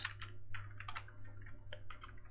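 Rapid typing on a computer keyboard, a close, steady patter of crisp key clicks with brief pauses, alone without talk.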